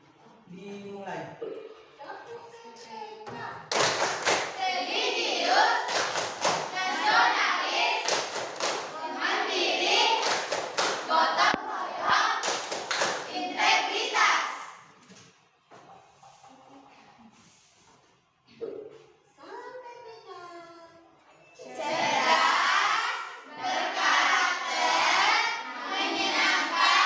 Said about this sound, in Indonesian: Peragakan salam dan tepuk BPK.